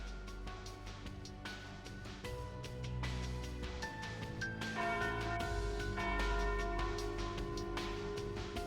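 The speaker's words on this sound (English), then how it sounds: "Ah, and there's the noon bell." A noon bell rings out over a carnival, several resonant church-style bell strikes with long overlapping tones that swell and hang in the air, with no talking.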